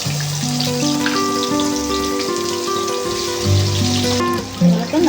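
Chopped onions drop into plenty of hot oil with bay leaves for a mutton curry, and a steady, rain-like sizzle crackles underneath louder sustained musical tones.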